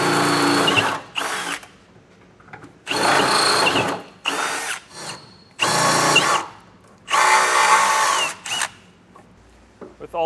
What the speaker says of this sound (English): I got a 1/2-inch drill bit, and I'm actually going to drill up through the bottom here